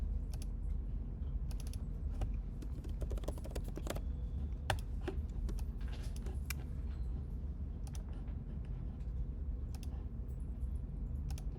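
Rapid computer mouse and key clicks while drawing line work in a digital art program, sharp dry ticks arriving in irregular bursts and clusters over a low steady background hum, close and fairly loud.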